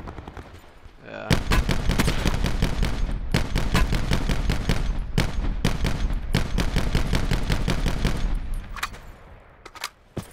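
Sustained gunfire in the video game Black Ops 4 Blackout, loud overlapping bursts of rapid shots with brief pauses, continuing for most of the stretch before tapering off.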